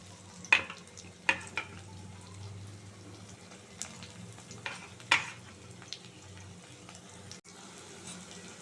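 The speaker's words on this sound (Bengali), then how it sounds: "পেঁয়াজিগুলো উল্টে দেবো।" Onion fritters (piyaji) fry gently in oil, a faint low sizzle broken by a few sharp clicks and knocks of a utensil as they are turned.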